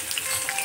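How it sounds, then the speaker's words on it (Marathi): Onion fries in hot oil with mustard seeds, cumin and curry leaves for shabudana khichdi, giving a brief, steady, close sizzle with faint crackles and stirring. "आता फ्राय करून घेऊ."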